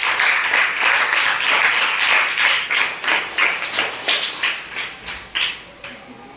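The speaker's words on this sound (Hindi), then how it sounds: "आप सदन की शुरुआत करें। जोरदार तालियों से।" Students clap together in a classroom with loud, rhythmic claps in unison that stay fairly steady, then slow and spread out into separate beats toward the end. No one talks over them.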